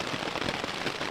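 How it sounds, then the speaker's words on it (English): Rain falls on a tent in a woodland camp, making a steady, dense patter of drops that fills the whole stretch evenly and close by, with no talking. "I might just lie back and listen to the rain"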